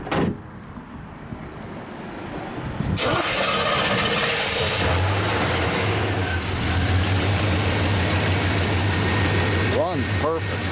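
A 1972 GMC three-door Suburban with a GM crate motor starts up and settles into a steady, fairly loud idle that runs on under the noise around it.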